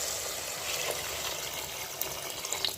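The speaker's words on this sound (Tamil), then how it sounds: "இப்போ தேவையான அளவு தண்ணி சேர்த்துக்கலாம்" Water poured from a vessel into a pot of goat leg soup, a steady close splashing and trickling pour lasting the whole short stretch, no voices.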